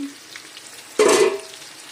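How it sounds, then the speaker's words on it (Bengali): Pointed gourd (potol) softens in a pan, a faint background hiss that swells into a short loud burst of sizzling near the middle, then fades back down. "এই যে দেখুন পটলটা নরমও হয়ে গেছে এই যে ভাজা ভাজা হয়ে আসছে"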